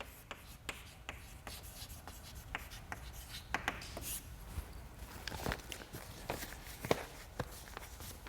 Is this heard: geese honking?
no